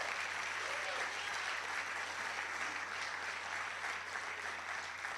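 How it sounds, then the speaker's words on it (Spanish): A church congregation applauds after a Scripture reading, a steady, dense wash of many hands clapping at moderate distance, sustained evenly for several seconds with no break. "Ahora sí podemos aplaudir a la palabra de Dios"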